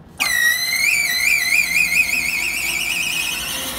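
A plasma cutting machine starts up with an abrupt onset, then settles into a loud, steady high-pitched whine with a wavering, warbling tone as it spins up to speed, heard alone with no talk.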